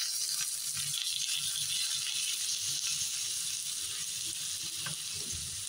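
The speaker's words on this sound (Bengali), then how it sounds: "পেঁয়াজের সাথে সাথে আমি শুটকিগুলোও ভালো করে ভেজে নেব।" Onion and dried chela fish fry in a pan, a steady broadband sizzle with faint stirring rattles and scrapes throughout, close and continuous with no talking.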